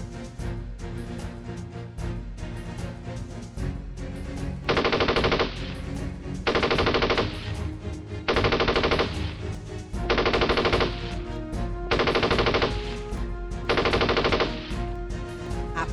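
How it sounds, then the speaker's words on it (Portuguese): Loud machine gun bursts fired from the side of houses at a patrol in Montese, Italy, ring out one after another, six long rattling volleys evenly spaced over a steady rumbling background, with no talking. "uma rajada de metralhadora vinda da lateral das casas"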